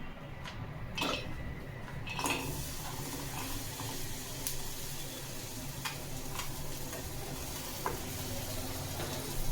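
Jaggery, tamarind and dates dropped into a hot kadai for chutney, a continuous close sizzle with a few sharp clinks and stirring scrapes, no talk.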